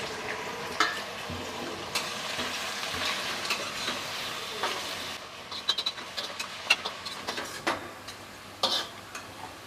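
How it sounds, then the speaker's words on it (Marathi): Onion frying in hot oil in a wok, a steady sizzle with scattered crackles and pops growing sparser toward the end, close and fairly loud with no voices. "आता यामध्ये आपल्याला कांदा तळून घ्यायचा आहे, तर इथे मी कांदा घालते"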